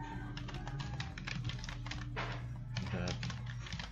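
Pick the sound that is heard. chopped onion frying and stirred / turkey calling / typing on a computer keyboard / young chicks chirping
typing on a computer keyboard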